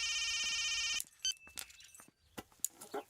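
A telephone rings loudly with a bright, buzzing tone for about a second, then stops and gives way to soft clattering and handling sounds.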